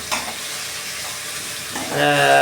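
Tomatoes are stirred in a hot frying pan, giving a constant loud sizzle and hiss with faint scraping, and a brief higher tonal hum creeping in at the end.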